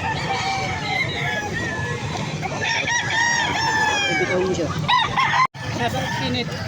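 A gamecock crows loudly and nearby in repeated drawn-out calls, with other roosters clucking and crowing around it, at a fighting-cock sales venue in Angeles City with a crowd chattering throughout.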